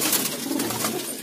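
Pigeons at a pigeon sale in Delhi give a short, steady stretch of soft cooing and rustling, close by and continuous, with faint market bustle behind.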